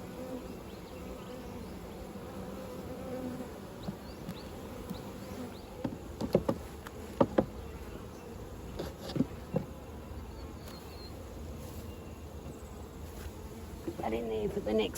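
Honey bees buzz around an open hive in autumn, a low continuous hum with occasional sharper clicks and knocks from handling the frames.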